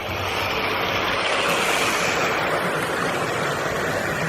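Trains run by on a first trial service, giving a steady, even rumbling roar that stays constant and fairly loud throughout, with no voices.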